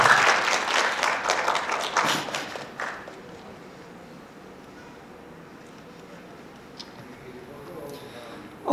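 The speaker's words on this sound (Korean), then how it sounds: "박수로 한번 맞아주십시오" Brief audience applause welcoming a speaker at a Korean lecture event, a burst of clapping for about three seconds that fades into quiet room tone with faint shuffling afterward.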